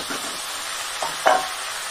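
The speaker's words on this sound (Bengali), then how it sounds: "মোচাটা আমি আলুর সাথে ভালোভাবে কষিয়ে নেব" Banana flower frying with potatoes and chickpeas in a pan, a continuous soft sizzle broken by a few scraping stirs and a sharper clink of the spatula, heard close with no voices.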